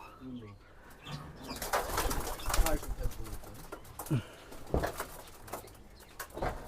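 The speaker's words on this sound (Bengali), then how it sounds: "আর এই হচ্ছে বড় কবুতর।" Pigeons at a pigeon sale, with soft coos and bursts of fluttering wings close by. They sound under a voice talking.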